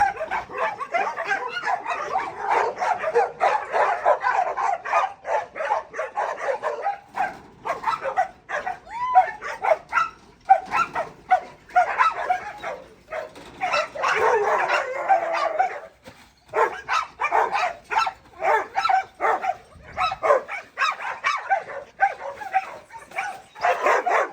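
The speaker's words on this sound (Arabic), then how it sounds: "راه كاين حتى الدريساج هنا ديال الكلاب" Several dogs at a dog training facility bark and yip repeatedly in rapid, overlapping bursts throughout, fairly close and loud, with occasional whimpers mixed in.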